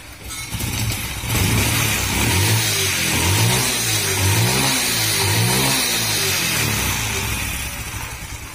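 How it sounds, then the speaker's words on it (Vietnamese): A Honda Dream motorbike with an IC ignition, a Future 1 fuel tank and an MD 50 coil revs up steadily from idle, a smooth buzzing engine held high with rhythmic throttle swells, close and loud throughout, no voices. "Đây là giờ mình nẹt lên cái nha."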